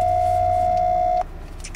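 A steady telephone ringback tone sounds loud and unbroken for over a second while a call is placed to a street dent-repair truck's number, then cuts off into quiet line noise.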